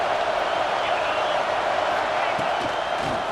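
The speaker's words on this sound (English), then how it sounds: "This crowd knows when to bring it." Stadium crowd in an NCAA college football video game, UCLA match: a steady, dense roar of cheering fills the whole stretch, loud and continuous, with no clear individual voices.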